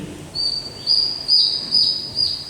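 Song of the Magdalena antbird from Colombia: a series of five high, clear whistled notes repeated at a steady pace, loud and close against quiet background.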